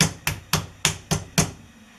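A meat hammer pounding a slice of beef steak nearly a centimetre thick, six firm, evenly spaced thuds about a quarter second apart, close and alone, fading after the last blow.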